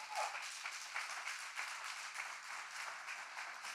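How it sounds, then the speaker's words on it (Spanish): Church congregation at Ekklesia Miami applauds, a soft, distant, even patter of many hands clapping with no voices over it. "Dale un aplauso al Señor por eso."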